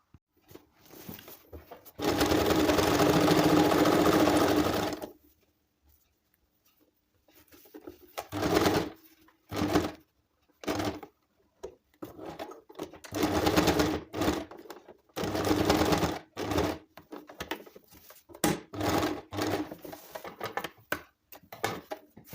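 A sewing machine stitches the base of a handbag made from used clothing: one long steady run of about three seconds, then after a pause many short bursts of stitching separated by brief silences, close and clear.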